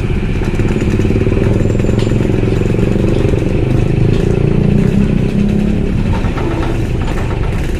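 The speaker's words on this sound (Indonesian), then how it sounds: "Wih, banyak motor nih." Many motorcycles idle and rumble together at the Bakauheni ferry port, a steady, loud engine drone with clattering, continuous throughout with no talk.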